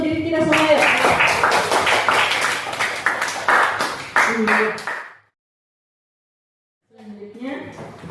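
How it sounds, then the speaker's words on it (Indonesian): A class applauds together, a dense burst of clapping for about five seconds that stops abruptly, followed by silence and then a voice speaking. "Ayo, kita aplaus untuk diri kita semua ya."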